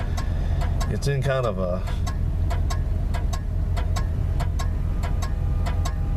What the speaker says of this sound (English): Still got a little bit of an exhaust leak on this car